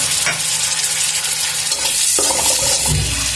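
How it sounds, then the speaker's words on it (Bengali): Spices being stirred and fried with onions in a kadai, a dense close sizzle punctuated by scraping strokes of a spatula against the pan, no voices. "পেঁয়াজটা লাল হয়ে এসেছে, আমি এখন মশলাগুলো ঢেলে দিই।"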